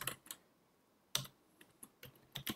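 Fingers tap on a computer keyboard in quiet, close, irregular bursts of soft clicks with short pauses, fairly faint overall.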